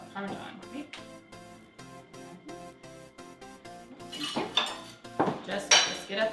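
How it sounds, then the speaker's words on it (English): Seasoned breadcrumbs and Parmesan whisked in a bowl, rapid clattering of metal against the dish that grows louder and busier toward the end. "Just whisk it up again."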